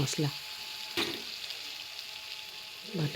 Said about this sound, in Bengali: দিয়ে দেবো কুচনো পেঁয়াজ আর কাঁচা লঙ্কা, দিয়ে ভালোভাবে ভেজে নেব